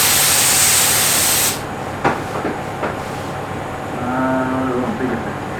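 Spray painting a GQ dual cab in a warm shed, heard as a steady hissing spray gun burst for about a second and a half before cutting off, followed by a few sharp knocks and faint shed noise.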